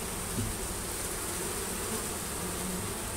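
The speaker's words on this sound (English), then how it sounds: "The bottom boxes have a lot of bees in them" Honey bees swarm and buzz steadily around an old hive box taken down after Hurricane Katrina, a dense, continuous insect drone held close for the whole stretch with no voices.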